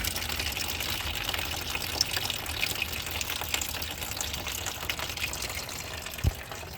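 Toyota coolant drains from the radiator's left-side drain beneath the vehicle, a continuous close trickling and gushing of liquid that runs steadily throughout, with a single soft knock near the end.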